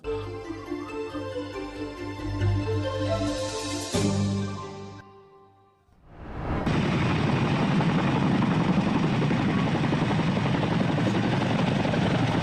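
A helicopter's loud rotor thrum and engine whine fill the air, fading briefly before surging back strong and steady at close range.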